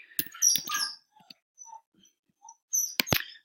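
A pet dog whimpers and whines in short, high-pitched bursts indoors, with quiet gaps between the cries and a louder cluster near the end.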